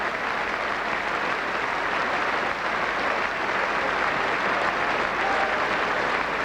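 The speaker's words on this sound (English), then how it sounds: "And a respectful round of applause from the home support." Home supporters at a 1995 Leicester Tigers versus Bristol rugby match give sustained, even applause, a dense wash of clapping that holds steady throughout without a break.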